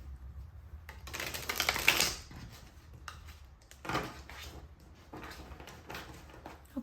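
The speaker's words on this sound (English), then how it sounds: "It's a riffle shuffle." Tarot cards are riffle shuffled in several crisp, fluttering bursts, close and fairly loud, the first burst longest, with quieter card handling between them.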